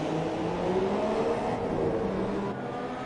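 F2 race cars on the Singapore street circuit in F1 2017, engines droning steadily at a moderate distance as one car closes on another, fairly faint with no talk.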